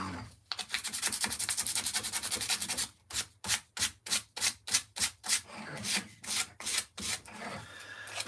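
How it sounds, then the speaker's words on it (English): Wood carving sanded by hand with sandpaper: a long continuous rasping scrub, then a run of about nine quick rhythmic back-and-forth strokes, then looser rubbing, close and fairly loud. "we've got the piece of sandpaper here"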